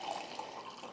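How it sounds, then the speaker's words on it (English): Freshly brewed coffee poured into a mug, a steady liquid stream of about a second, close and moderately loud with no talking. "I'm going to try to master the left-handed pour."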